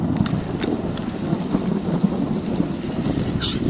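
Hailstorm with thunder in the Kyiv region, hailstones larger than peas: dense, steady rattle of ice and rain pelting surfaces throughout, with low rumbling underneath and a brief brighter splash near the end, no voices.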